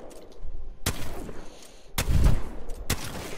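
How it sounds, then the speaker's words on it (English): Mastiff shotgun blasts in Apex Legends, three loud sharp booming shots spaced about a second apart, each with a short rumbling tail, over faint background game noise. "I'm gonna be sniping with the shotgun"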